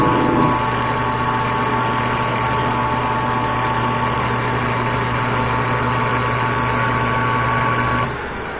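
A homemade hoglet machine takes a cut through a metal part, giving a steady, loud mechanical drone with a constant whine that runs unbroken for about eight seconds and then drops away at the end.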